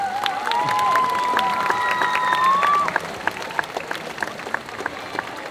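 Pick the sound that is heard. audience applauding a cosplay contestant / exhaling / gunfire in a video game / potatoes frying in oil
audience applauding a cosplay contestant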